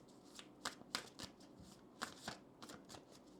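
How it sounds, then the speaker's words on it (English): A deck of oracle cards is shuffled by hand for a tarot reading, giving soft papery riffles and flicks in several quick bursts, close and fairly quiet, with no talking. "I'll start off by pulling some oracle cards"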